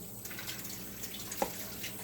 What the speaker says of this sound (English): I didn't get all the water dumped out.